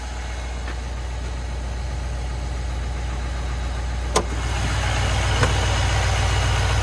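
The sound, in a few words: Chevy Silverado 3500HD 6.6 Duramax diesel engine idling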